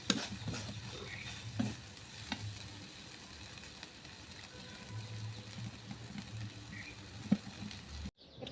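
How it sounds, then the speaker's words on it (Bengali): Banana flower and dried shrimp frying in a pan, with a faint, steady sizzle broken by occasional scraping stirs and taps of a utensil, fairly quiet with no talk. "আর এখন আমি একদম ভাজা ভাজা করে তারপরে নামিয়ে নেব।"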